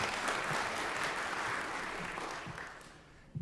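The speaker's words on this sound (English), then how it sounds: "So just one little round of applause for Ross." Applause for a horn player fills a band concert by a chamber winds group, a dense wash of clapping that holds steady and then slowly fades.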